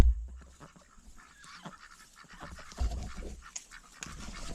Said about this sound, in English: Ducks, just doing duck things.